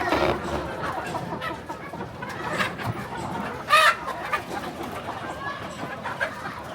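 Domestic chickens cluck and call repeatedly nearby, with one louder squawk about midway through, in an ongoing, irregular farmyard chatter.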